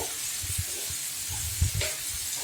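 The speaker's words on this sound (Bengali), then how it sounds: "এখন আমি নাড়াচাড়া করছি, ভালো করে মিশিয়ে দিবেন মশলাগুলি" Spices are stirred into a catfish curry in a pan: soft, irregular scrapes and light knocks over a quiet background sizzle, close and brief.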